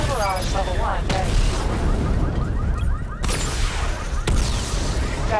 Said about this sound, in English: Destroy targets to charge up weapon energy and activate missile barrage. Missile barrage level 1 ready.